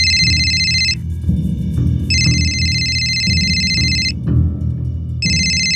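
A phone ringtone plays in repeating bursts of bright two-tone warbling, about two seconds on and one off, loud and close over a low background hum.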